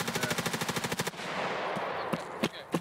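Rapid machine-gun bursts in a shooter video game, about a second of evenly spaced loud shots, then a noisy rush followed by a few separate sharp gunshots.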